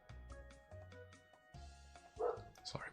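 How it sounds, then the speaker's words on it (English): A pet dog barks in short sharp yips and bow-wows a few times indoors, somewhat distant and quiet, over a game's background music. "Sorry about the dog."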